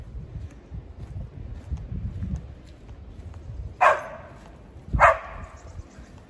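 Two sharp greyhound barks, about a second apart, ring out clearly against quiet rustling background noise in woods.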